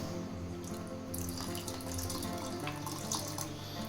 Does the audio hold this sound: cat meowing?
no